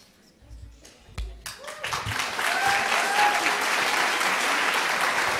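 Audience applause at the THEC 2 fan convention panel with two actors: a few scattered claps and brief voices, then the clapping swells into full, sustained applause from the crowd.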